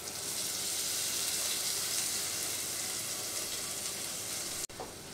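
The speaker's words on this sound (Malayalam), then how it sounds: "കുറച്ച് നേരം ഒന്ന് വഴറ്റാം." Green chilies sauté in a pan, giving a steady, close sizzle that runs evenly for several seconds before cutting off abruptly near the end, with a small clatter after.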